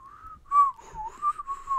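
A character in the video game Sea of Stars whistles a short, clear melodic tune alone, with a few wavering notes and brief pauses between phrases.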